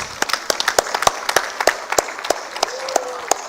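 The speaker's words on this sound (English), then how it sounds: "A huge round of applause for all the winners." Applause for winners at a university convocation: a smallish audience claps in distinct, irregular sharp slaps rather than a dense roar, moderately loud and close, lasting a few seconds.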